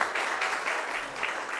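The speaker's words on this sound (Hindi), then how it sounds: "गीता जी के पिताश्री के लिए जोरदार तालियां हो जाए" A stage audience claps loudly and steadily for an honoured guest's father at a film poster launch event, a dense sustained applause with no voices.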